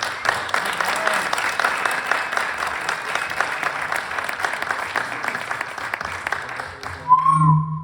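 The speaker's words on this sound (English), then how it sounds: "I think we could give them a rousing round of applause." A crowd at a mission reunion gathering gives a sustained round of applause, loud and close. As the clapping fades near the end, a voice begins to speak.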